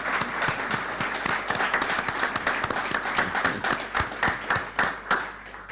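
A crowd at a book presentation in the National Library applauds, with loud, close clapping in a dense wash and individual sharp claps popping out in an uneven rhythm, and no talking.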